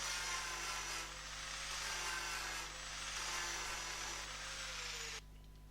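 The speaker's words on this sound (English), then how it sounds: "clean those down with the flap wheel" A flap wheel on an angle grinder whines continuously as it smooths filled spot welds on the body of a 1980 Opel Kadett historic rally car, a loud steady high-pitched grind with slight dips in pressure before cutting off near the end.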